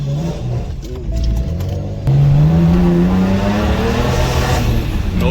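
A BMW 1M on a boosted new setup accelerates hard with a loud, rising engine drone and the tyres losing traction, with a voice heard over it.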